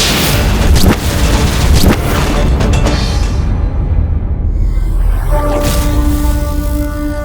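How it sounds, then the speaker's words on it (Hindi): A dramatic explosion effect from the Hindi mythological TV series Vighnaharta Ganesh: heavy rumbling booms with a couple of sharper hits, then settling into a sustained tonal, music-like drone toward the end. "अब किसी से प्रभावित हुए बिना अपना विस्फोट करूंगी मैं"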